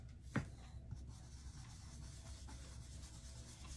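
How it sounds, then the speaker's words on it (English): Dry paintbrush rubbing and pouncing paint onto a wooden shadow box in circular motions, a faint close scratchy rubbing with one sharper tap near the start. "I'm just in some circular motions, a little bit of pouncing, just rubbing some of that"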